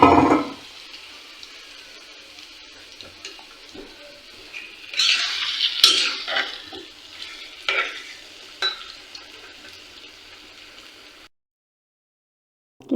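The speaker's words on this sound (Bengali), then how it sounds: "মাখানো হয়ে গেলে গরম তেলের ভিতরে মাংসটা দিয়ে দিলাম।" Chicken meat dropped into hot oil, giving a sudden loud hissing sizzle that swells, crackles on and off, then fades near the end, heard close with no talking.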